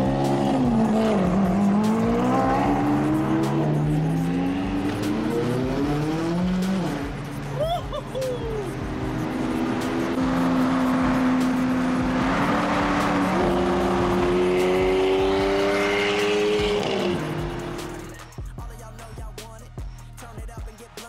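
A Lamborghini engine revs and accelerates up through several gears, its loud rising howl shifting repeatedly and staying close before dropping away to a quieter idle near the end.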